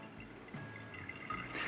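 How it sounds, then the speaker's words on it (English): Propper Starter wort poured into a container for a yeast starter, a quiet liquid trickle and splash building slightly toward the end, close and alone. "So I take this, I start pouring."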